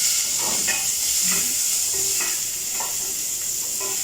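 Onions sizzle in hot coconut oil in a pan: a constant bright hiss with soft scraping and stirring clicks scattered over it, close and fairly loud, no talking.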